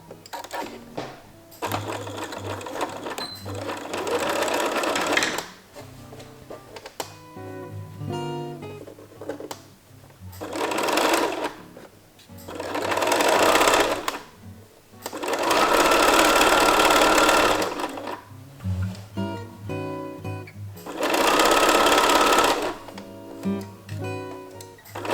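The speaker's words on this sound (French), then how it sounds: "je viens commencer ma couture par un côté" A domestic sewing machine stitches a dress seam in repeated bursts of rapid mechanical whirring, several runs of a few seconds each separated by quiet pauses and small handling clicks, close and clear.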